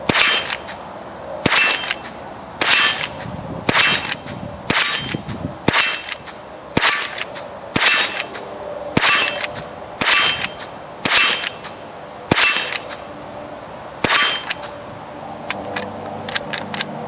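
Henry rifle fitted with HIVIZ sights firing about a dozen sharp, loud shots at a steady pace of roughly one every second or so, with faint clatter between shots.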